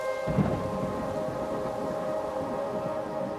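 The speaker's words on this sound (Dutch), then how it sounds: "de hele dag bewolkt, de hele dag aan het regenen" Steady rain under a grey, overcast sky, a continuous even wash of drops at constant level with a low rumble near the start, no voices.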